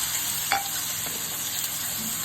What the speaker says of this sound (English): the pan should be warm, hot. Yes, it's hot, sizzling. Put your pork chops in.